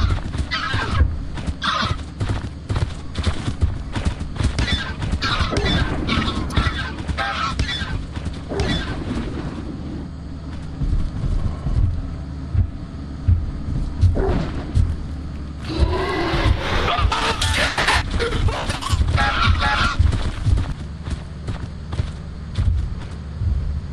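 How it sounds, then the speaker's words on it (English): A pack of baboon hawks in the game Lethal Company gives harsh honking, goose-like calls, repeated and overlapping at mid distance over thumping game noise, with short bursts of talk. "look how fucking many baboon hawks there are"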